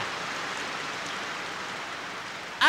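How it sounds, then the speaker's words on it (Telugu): Steady rain falls in an even, moderately loud hiss in a Telugu comedy film scene, and a brief voice cuts in at the very end. "ఈ వాన సంగతి నేను చూసుకుంటాను. ఎంత కురుస్తావు?"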